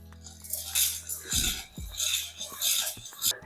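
Roasted gram (pottukadalai), about 150 grams, is dry-roasted in a pan for a homemade protein powder, giving a steady dry rattling and scraping as the grains are stirred, with a low hum and two thicker stirring thumps midway.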